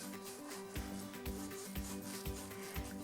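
Quiet rhythmic rasping strokes, about five back-and-forth saws of a knife through a firm vegetable, close by with no talking.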